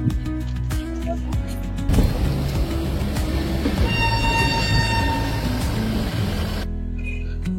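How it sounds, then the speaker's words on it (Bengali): A passenger train runs from Saharanpur back toward Haridwar, producing a loud, continuous rumble and rattle of carriages on the tracks. The noise swells after the first two seconds and holds steady to the end. "এখানে সাহারানপুর থেকে ট্রেনটা আবার পিছন দিকের ডিরেকশনে যাচ্ছে"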